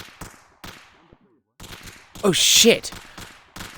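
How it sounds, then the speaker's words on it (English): Gunfire in a VR roleplay video game bursts out loudly for about half a second midway through, between stretches of excited talk. "Where's the gunshot?"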